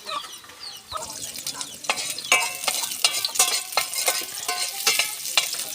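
Garlic sautés in hot oil in a large wok at a rural provincial kitchen, a steady close sizzle broken by repeated scraping stirs, with faint chicken clucks in the background.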